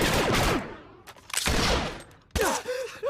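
Star Wars The Old Republic blaster fire comes in three loud, close bursts of rapid shots separated by short gaps, with groans mixed into the exchange.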